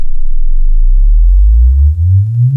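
A Room EQ Wizard measurement sweep plays loud through two studio speakers, a pure tone gliding steadily upward from deep bass, heard alone.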